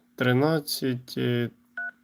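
A phone number is dialed with DTMF keypad tones during a live broadcast, with brief beeps among someone talking loudly close up, plus one clear tone near the end.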